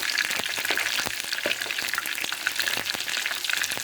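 Eggplants fry in hot oil with a steady, close crackling sizzle, punctuated by sharp pops and occasional stirring clatter.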